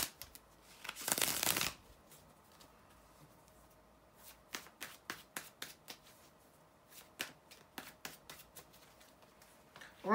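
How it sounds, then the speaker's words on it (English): A deck of tarot cards is shuffled close by: one loud riffle burst, then a string of sharp, separate card snaps and taps at an uneven pace. "bear with me a second, guys, to shuffle the cards"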